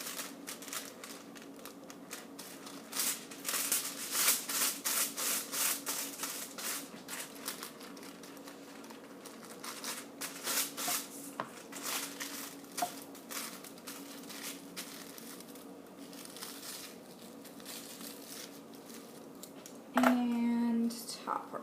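Foil is creased and folded by hand while sectioning hair for a highlight weave, giving soft crinkling rustles and small taps in a quiet salon, with a sharper crackle near the end.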